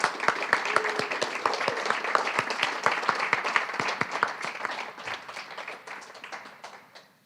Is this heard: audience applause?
yes